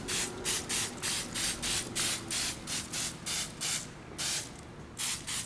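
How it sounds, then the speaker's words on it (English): Short bursts of slippery release spray from an aerosol can coat the inside of cups before plaster is poured, about a dozen quick hissing puffs in a fairly steady rhythm, close and clear, with no talking. "I'm coating the inside of these cups with like a slippery spray"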